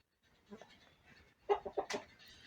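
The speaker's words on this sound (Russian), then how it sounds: "Мои бройлеры, петухи." A few short, loud broiler rooster calls in quick succession after a quieter stretch, with fowl sounds nearby and no talking.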